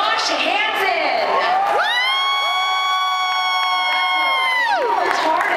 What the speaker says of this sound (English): Let's get loud for your winner tonight, Josh Hansen.